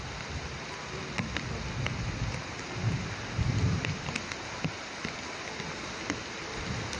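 A heavy downpour hisses continuously, with scattered sharp drip and splash ticks and a few louder swells of rumbling rain, all without talking.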